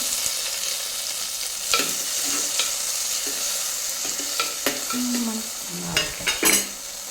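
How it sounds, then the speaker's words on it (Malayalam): Tomato sizzles steadily in a hot pan for fish curry, with a scatter of spatula stirs and scrapes rising over the constant frying hiss, nearby and moderately loud. "ചെറിയ ഗോൾഡനിഷ് ആയതിനു ശേഷം തക്കാളി നമ്മളിടുന്നു."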